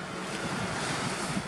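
A light offshore breeze rumbles across the microphone over the steady wash of small waves at a nearly flat surf beach, constant and fairly loud without voices.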